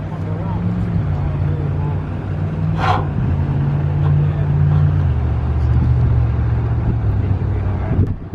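Steady low engine hum and rumble as a car is driven slowly up onto a ramp, the drone shifting pitch midway, with talk and background voices over it.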